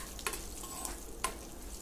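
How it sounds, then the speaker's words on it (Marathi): Asafoetida, curry leaves and two or three dried red chillies sizzle in hot oil as a tempering, a steady frying hiss broken by a few sharp clinks of a spoon stirring in the pan, with no talk. "छान ही फोडणी खमंग करून घेतली परतवून"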